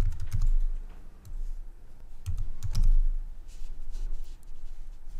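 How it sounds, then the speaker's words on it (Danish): Rapid clicking keystrokes on a computer keyboard as a code and email address are entered, with uneven bursts and brief pauses, close and clear with no talk. "og så indtaster jeg en kode og så en e-mailadresse"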